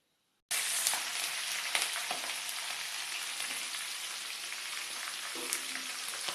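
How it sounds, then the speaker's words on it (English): Green chilies spit and crackle in hot oil, the frying starting abruptly and then holding as a steady close sizzle with scattered sharp splatter pops. "Be careful when you're adding green chilies since they start splattering up"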